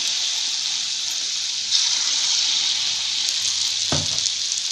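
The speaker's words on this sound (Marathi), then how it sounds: "जेवढे आपल्या तेलात बसतील तेवढे सोडून घ्यायचे." Sweet gulgule dumplings dropped into very hot oil, a loud continuous bright sizzle that swells slightly partway through, with a brief low clunk near the end.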